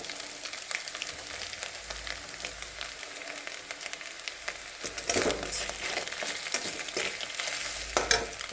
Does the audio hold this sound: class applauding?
no